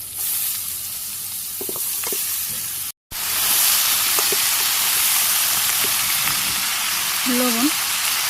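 Cumin, chopped onion and vegetables fry in hot oil with a steady, hissing sizzle that cuts out for a moment, plus a few soft stirring knocks and a brief tonal sound near the end.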